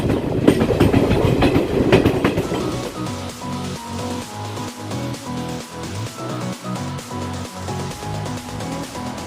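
A VSG-SHM 18048 Express train rolling along the tracks, loud rumble settling into a regular clickety-clack rhythm of wheels over rail joints.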